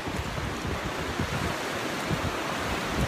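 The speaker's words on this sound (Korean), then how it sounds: "바닷가다." Ocean surf washes steadily against a breakwater at Yeongdeok on a cold, windy seaside day, a dense continuous roar with wind buffeting the microphone.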